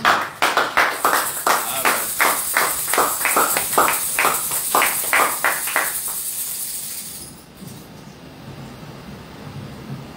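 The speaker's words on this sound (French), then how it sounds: "Applaudissez encore le Seigneur." A prayer-meeting congregation claps in quick rhythmic bursts, loud and close, for about six seconds before the applause fades into a quiet, noisy room.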